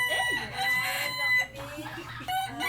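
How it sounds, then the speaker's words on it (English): A rooster crows loudly, its drawn-out call rising and falling over a busy background of other farmyard noise. "the rooster sound is not isolated"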